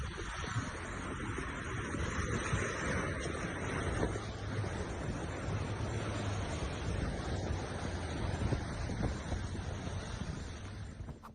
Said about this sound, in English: The small waves don't seem too menacing.